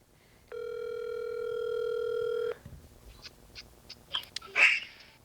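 A telephone call being placed to a podcast guest: one steady, loud ringback tone lasts about two seconds, followed by a few soft clicks and small handling noises.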